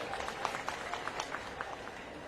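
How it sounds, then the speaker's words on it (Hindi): Audience at an outdoor political rally in Bhind district applauding, a faint, distant scattered clapping with irregular sharper claps standing out, no speech over it. "तालियां बजा करके हमारा समर्थन करें"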